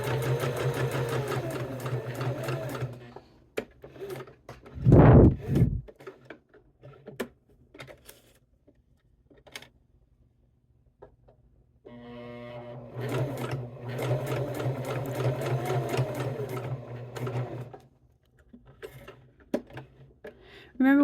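A sewing machine stitches a cork wallet in bursts of rapid, rhythmic stitching, close and clear, with a pause and a loud thump in the middle before the stitching resumes.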